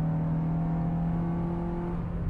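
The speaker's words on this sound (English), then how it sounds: "You guys can hear the intake. It's pretty loud." Acura RSX Type-S engine with a new intake, droning steadily under an acceleration pull from inside the car, a moderately quiet, sustained hum without voices.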